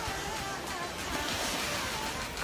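Sea of Japan surf washing onto a sandy shore near the North Korean border, a steady broadband wash of breaking waves with some wind rumble, continuous and fairly close, no voices.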